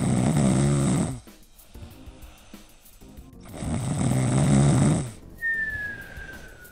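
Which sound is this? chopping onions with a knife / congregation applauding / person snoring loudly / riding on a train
person snoring loudly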